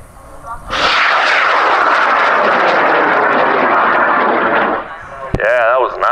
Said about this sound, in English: L1420, big red motor in 5, 4, 3, 2, 1, launch.